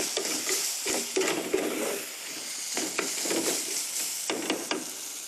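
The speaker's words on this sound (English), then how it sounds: "I'm just going to put a little bit of finely chopped curry leaves." Finely chopped curry leaves go into a pot of stock with carrots and eggplant, bringing steady sizzling and bubbling, with several soft stirring knocks against the pot, close and continuous, and no talking.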